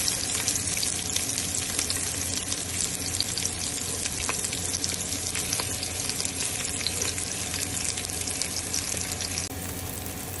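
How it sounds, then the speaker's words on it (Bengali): Onion and garlic sizzle in hot oil in a pan for a Chinese vegetable dish, a steady, dense, close crackle with occasional stirring scrapes, continuous throughout with no talking. "আমি আসলে তেলের মধ্যে আমি পেঁয়াজটা দিয়ে দিচ্ছি"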